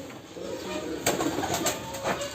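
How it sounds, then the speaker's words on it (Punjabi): Pigeons cooing close by in a loft of fancy breeds, soft repeated coos over a quiet background hum, a few brief louder calls near the middle and end. "ਕਬੂਤਰਾਂ ਦੀ ਨਵੀਆਂ ਵੈਰਾਈਟੀਆਂ ਤੁਹਾਨੂੰ ਅੱਜ ਦਿਖਾਉਣੀਆਂ ਸੀ"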